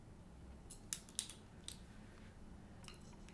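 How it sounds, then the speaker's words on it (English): Scissors snipping the tip off a krummhorn reed, a few small crisp clicks close by over quiet room noise, no talk. "Now we're ready to cut off the tip."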